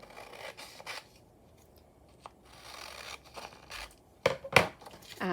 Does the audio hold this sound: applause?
no